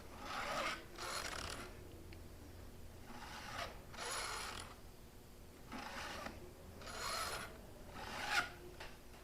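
A STIHL 2-in-1 sharpener files a chainsaw tooth on a vintage Homelite Super XL chainsaw, giving about five rasping strokes spaced evenly at close range with pauses between them.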